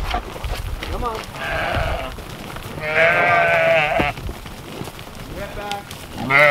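Cattle on a farm lowing in several loud, drawn-out calls, close by, with rustling movement between them.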